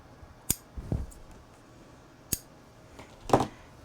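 Scissors trimming paper for a paper bag album: a few crisp, close snips spaced irregularly over a few seconds in a quiet room, with no talking.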